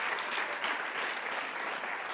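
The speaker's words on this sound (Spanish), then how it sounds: "Dele un aplauso al Rey" Steady applause from a church congregation at a Spanish-language pastors' study service, dense and continuous clapping without talk, filling the room for a couple of seconds.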